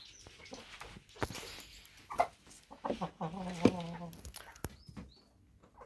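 An aggressive rooster clucks and gives short throaty calls among hens, with someone talking at times and a dog-like bark nearby.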